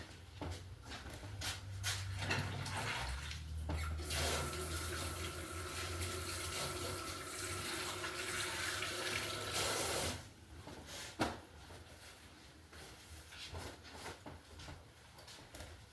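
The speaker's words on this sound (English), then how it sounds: "Let me wash my hands." Kitchen tap running as hands are washed at a sink after cooking meatloaf, a steady broadband water rush for about ten seconds, then stopping, followed by faint handling clatter and a small knock.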